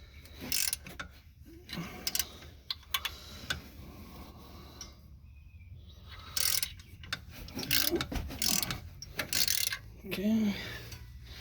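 A 14 mm ratchet works brake nuts loose on a 2012 Chevy Traverse rear brake job, giving quick bursts of clicking pawl ratchets between pauses, close up with faint background noise.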